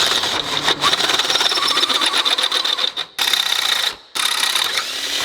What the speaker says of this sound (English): Yeah, it sounds like it's cutting now. Instead of just scraping in there.